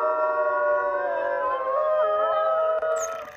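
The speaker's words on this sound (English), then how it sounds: "And wolves howl." Several wolves howling together in long, sustained, wavering tones that rise and fall and overlap at close range, with no talk, ending on a higher cry as the chorus fades.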